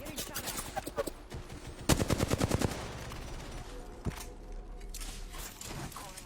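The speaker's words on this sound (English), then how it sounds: "Getting shot at." Gunfire in the Apex Legends video game, with bursts of rapid automatic shots, a dense rattling fusillade near the middle, and scattered single shots mixed with other game noise.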